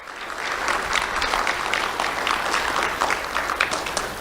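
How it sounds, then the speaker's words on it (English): An awards-ceremony crowd applauds the school board and superintendent, a continuous wash of clapping at even volume with individual claps popping through. "Let's have a round of applause for the school board and Dr."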